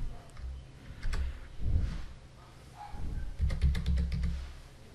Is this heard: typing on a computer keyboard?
yes